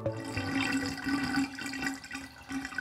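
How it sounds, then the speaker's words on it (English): Sewer water gurgling through underground pipes carrying wastewater from homes and businesses, a steady watery churn with bubbling pulses, fairly loud and continuous, with no voices. "Some contain sewer water gurgling its way from homes and businesses to wastewater treatment plants."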